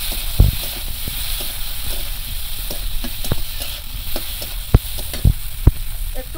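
Onion and chopped tomato frying in oil in a pan, with nigella and cumin seeds tempered first: a steady close sizzle with occasional sharp pops and stirring knocks, no voices.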